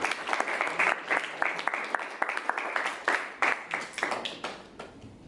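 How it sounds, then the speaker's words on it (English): Applause from a small audience at a Toastmasters club meeting, a modest group clapping at close range with uneven, scattered hand claps that swell and fade over several seconds, no talking. "Give them a round of applause."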